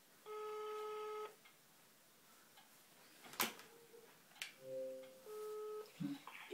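Telephone dialing: a steady electronic tone, then a sharp click and a short series of beeps and tones, faint and close.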